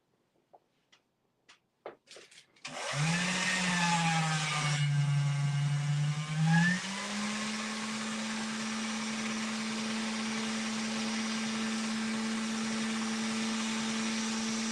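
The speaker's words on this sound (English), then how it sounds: "So I'm going to run this through the pasta machine. So it's going to be loud for a second." A motorized pasta machine rolls polymer clay: a few light clicks and knocks, then a loud, steady motor whine and hum starts, pitch shifting once as the clay feeds through, running continuously to the end.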